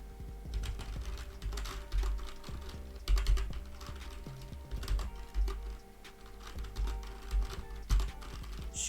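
Steady typing on a computer keyboard, a dense run of light clicks at an uneven rhythm, close and clear with no voices.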